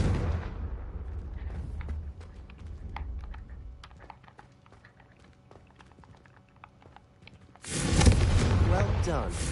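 Spell blasts from the Confringo curse in the video game Hogwarts Legacy: a loud rushing burst opens, then a quieter spell of scattered ticks and clicks, before another powerful broadband blast erupts near the end.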